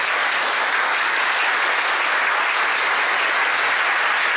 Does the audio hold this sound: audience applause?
yes